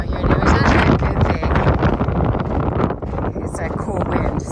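Wind gusts across a hiking trail in South Mountain Preserve on the Maricopa Trail, buffeting the microphone with a loud, continuous rumbling roar that dips briefly midway.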